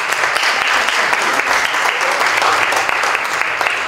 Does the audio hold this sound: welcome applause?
yes